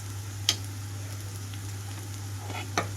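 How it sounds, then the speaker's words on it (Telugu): Ginger and garlic sizzle steadily in a pan for a chana dal and amaranth sour curry, a soft continuous fry with a couple of brief sharper crackles, under a low steady hum. "ఇక్కడ అల్లం వెల్లుల్లి కూడా వేగిపోయింది"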